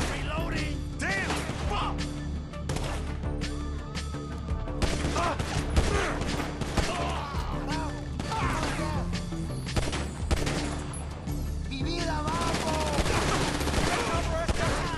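Heavy, continuous gunfire from Grand Theft Auto V, with overlapping bursts and shots ringing out steadily alongside game clatter, loud and busy throughout.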